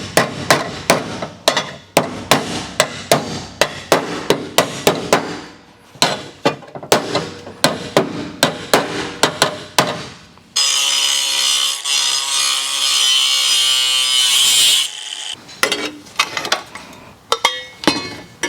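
A metal floor panel on a Geo Tracker is hammered straight with a long run of sharp, loud, rhythmic blows, broken midway by several seconds of sustained harsh grinding noise before the hammering resumes.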